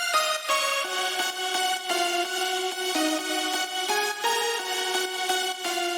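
Layered dance-music lead with a guitar layer, as in a remake of a dance track, plays a bright sustained melody of steady stepping notes, fairly quiet and without talk.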